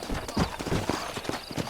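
Horse hooves clip-clopping in the Red Dead Redemption video game, a quick irregular run of soft thudding steps at moderate volume with no talk over them.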